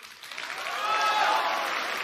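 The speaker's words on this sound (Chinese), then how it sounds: "这个掌声大家也可以送给卢总啊" An audience at a Redmi smartphone launch event applauds, a dense steady clapping that swells after a quieter start and holds loud through to the end.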